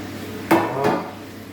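Raw courgettes tipped into a pan of melted butter for a courgette gratin, giving two close clattering knocks of vegetables and utensil against the pan about a third of a second apart, then a fading sizzle.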